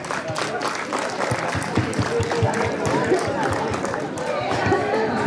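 An audience claps enthusiastically at a 2025 former teacher-student reunion at an inter college in Kimsar, with brisk, fairly close clapping mixed with crowd chatter.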